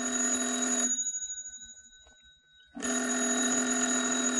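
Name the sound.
telephone bell ringing in radio drama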